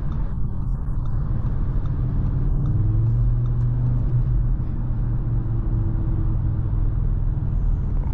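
Audi RS3 Sportback engine rumbling steadily from inside the cabin while driving, a low continuous drone with a rising tone partway through, no speech.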